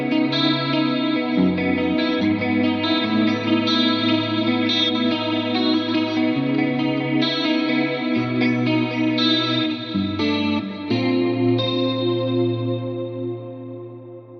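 Electric guitar through a tone-matched Mesa Studio preamp with compression, chorus, reverb and delay, playing a clean, shimmering melodic passage of sustained notes and chords that rings out and fades at the end, no talk.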